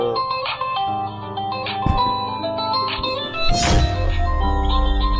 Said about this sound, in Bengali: শান্ত ফোন দিছে।